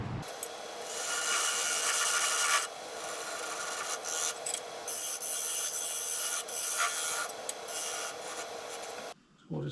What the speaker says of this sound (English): Get my modified skew out here and flatten out that bottom.